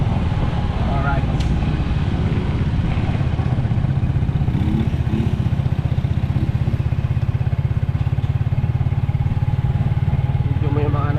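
A motorcycle engine idles and revs steadily for the whole stretch, up close and loud, with a rough, pulsing low drone while people talk over it now and then.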